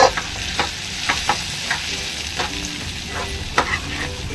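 Sweet corn paste sautés in a pan for upma, a close sizzle punctuated by rhythmic spatula scrapes every half second or so, with no talking.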